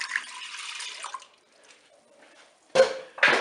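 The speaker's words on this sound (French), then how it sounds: "Je vais maintenant verser le lait dans la cuve." Milk poured into the bowl of a Cookeo cooker, a soft liquid splash that fades away, followed after a pause by two louder splashing bursts close by, with no talk.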